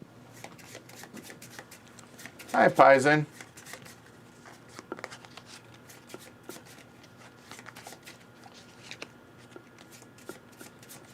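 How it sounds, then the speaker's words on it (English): Board game cards from the discard pile of The Shores of Tripoli get shuffled in a quick riffle burst lasting about a second, close up, followed by light handling and tapping of cards while people speak briefly. "Our entire discards get shuffled up."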